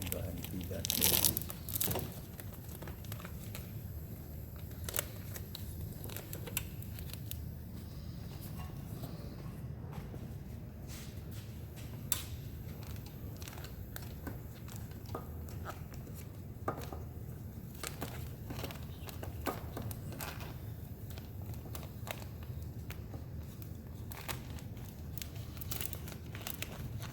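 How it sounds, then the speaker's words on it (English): Tape is pulled off a roll and fed through a K and S 961 wafer tape frame mounter, making soft crinkling, rustling and occasional tearing crackles over a long stretch, with a voice talking at times. "You just pull your tape off and go ahead and feed that through."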